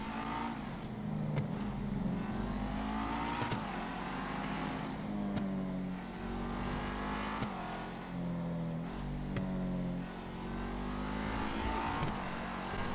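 A Rapid GT sports car engine in GTA 5 revs to 8,000 and shifts repeatedly, climbing in pitch then dropping with each gear change, steady and continuous with no talking.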